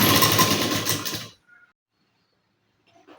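A sewing machine stitches piping thread onto a blouse neckline, a fast close whirring run that stops abruptly partway through, leaving near silence with a few faint clicks.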